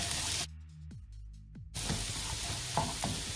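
Small onions, about 150 grams, drop into hot oil while mutton chukka cooks, giving a loud continuous sizzle and frying crackle with stirring scrapes, broken by a brief quieter gap before the hiss returns at full strength.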